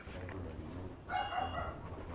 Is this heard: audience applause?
no